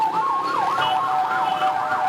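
An ambulance siren wails in a steady repeating up-and-down sweep, loud and continuous, cutting through the traffic noise of a congested Port-au-Prince street.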